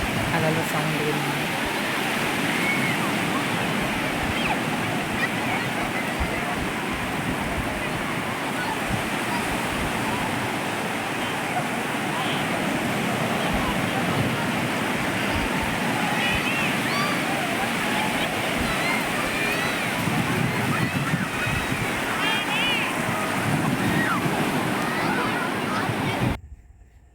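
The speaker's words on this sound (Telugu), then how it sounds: "ఇప్పుడు మీరు ఈ సముద్రపు సౌండ్ వినండి" Sea waves wash continuously onto a shore where a large tuna catch is being packed, a broad steady roar of surf and wind noise that holds for nearly half a minute before cutting off.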